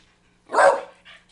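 A single loud, close dog bark at a pet dog, one short sharp woof followed by a faint softer yip, with no talking.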